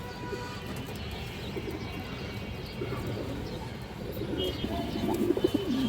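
High flyer pigeons cooing inside a cage, soft repeated low coos rising toward the end over a steady murmur of background noise, fairly close.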